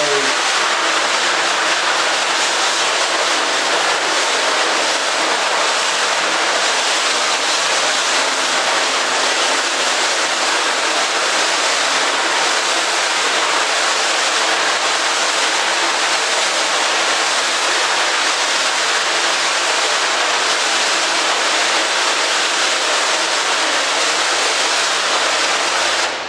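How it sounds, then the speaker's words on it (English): A water spray hisses steadily for a long stretch as it washes emulsion out of a silkscreen, a loud, even rush of water with no talk. "So you just want to really slowly sort of hit it with the water and let it kind of dissolve away the emulsion"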